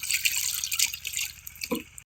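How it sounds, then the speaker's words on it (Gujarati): Water is poured over chibhda (snap melon) to wash it, a close, steady splashing and dripping trickle lasting about two seconds with no voices. "આપણે આ શીબડાને ધોઈ નાખશું પાણી નાખીને"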